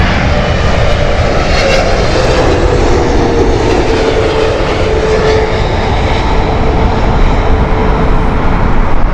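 An American Airlines Boeing 777-300 at Heathrow in heavy wind, a loud, sustained engine roar with a thin whine that rises and falls, heard alone for about nine seconds.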